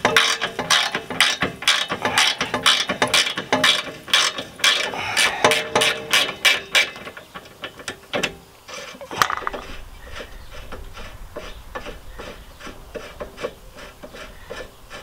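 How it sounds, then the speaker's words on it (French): A ratchet wrench loosens a nut on the rear shock absorber of a Renault Koleos, giving rapid, close metallic clicking in quick bursts, then slower scattered clicks as the nut frees. "je prends une clé à cliquer"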